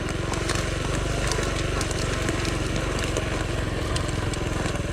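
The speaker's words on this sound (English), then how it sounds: "in first gear, this thing really does crawl over most everything you throw at it" A small Honda Trail CT70 motorcycle crawling in first gear through woods, its little engine putting out a steady low chugging drone from start to finish.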